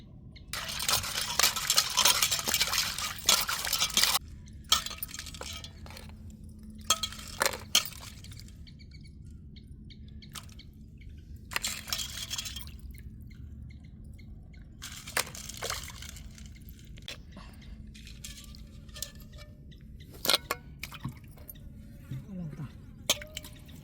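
Broken crab pieces washed by hand in water in a bowl, with intermittent splashes, drips and clinks of shell in close, irregular bursts separated by quiet pauses.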